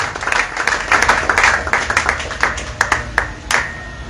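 Congregation clapping and applauding in a church service, a dense wash of many hands with sharp individual claps standing out, steady and lively throughout.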